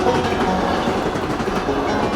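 A game train rolls along its rails, a steady close rumble with rhythmic clickety-clack from the wheels, heard on its own.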